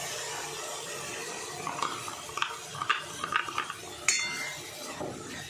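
A spoon stirs and scrapes ground masala paste frying in oil in a pan for mutter malai methi, with soft clinks against the pan over a low background sizzle, close and fairly quiet, no talk.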